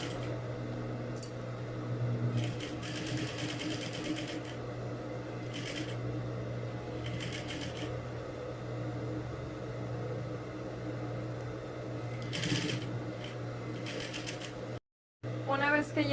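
A sewing machine runs short stitching bursts along the same seam of fabric on a tailored jacket's front flap pocket. The quick bursts repeat several times over a steady low hum, with pauses between them.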